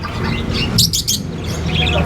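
Parakeets and lovebirds in a pet shop let out a short cluster of high chirps and tweets, several quick calls bunched together over a steady indoor background hum.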